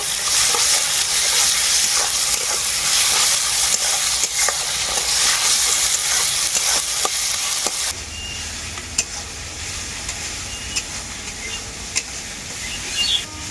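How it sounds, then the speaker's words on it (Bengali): Onion frying in a pan with ginger and garlic paste for a mutton curry, a dense steady sizzle with stirring scrapes throughout, louder at first and settling slightly lower partway, no talking. "আদা রসুনটাকে খুব ভালো করে পেঁয়াজের সাথে ভেজে নেব"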